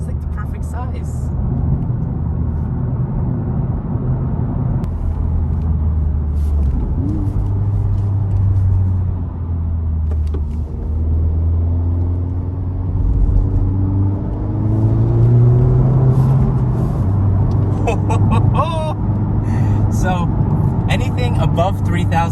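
A Honda Type R drives with a steady low engine rumble and road noise throughout, the tone rising slightly as it pulls, with faint voices near the end.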